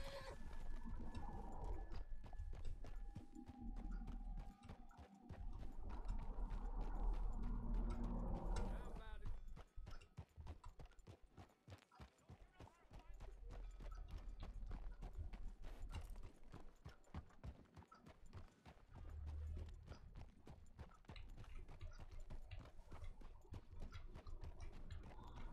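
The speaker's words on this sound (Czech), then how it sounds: "To tady jsou všude koně něčí, ty lidi si to tady nechávají." Horses clip-clopping in the video game Red Dead Redemption 2, dense rhythmic hoof clatter running throughout at night, with someone talking over it.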